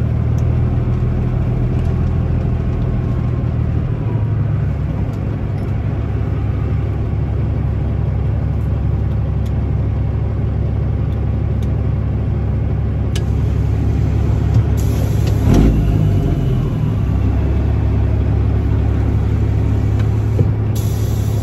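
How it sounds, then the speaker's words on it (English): A semi truck tractor pulls a belt trailer onto a weigh scale, its diesel engine rumbling low and steady at close range, with a short clank and wind noise near the end and no speech. "Tractor weighed, pull the trailer on."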